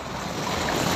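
Fast-moving floodwater of a garbage-strewn river swollen by typhoon Carina and habagat rains, a steady, loud rushing roar of churning water close by, continuous with no voices.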